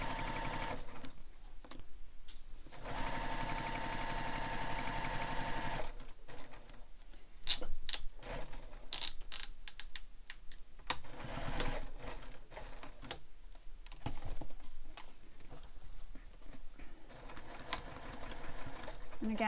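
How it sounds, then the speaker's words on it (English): A sewing machine stitches around a box on soft vinyl for a messenger bag, running in bursts of close mechanical whirring broken by short pauses, with a person talking in between. "We're going to stitch around that box."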